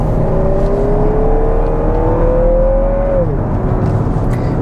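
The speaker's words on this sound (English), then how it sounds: "four-cylinder engines can be noisy. This one's a little noisier than I would have expected" A Lexus NX 350 F Sport's four-cylinder engine pulls uphill, a loud sustained drone whose tonal whine climbs slowly as it accelerates, then drops suddenly near the end, all heard from inside the cabin.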